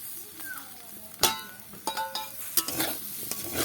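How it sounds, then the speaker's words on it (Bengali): Broken wheat (dalia) is stirred in a hot pan with oil and turmeric, giving a soft sizzle under a few sharp scrapes and clinks of the spoon, heard close up without talk. "ডালিয়াটা বেশি ভাজবো না"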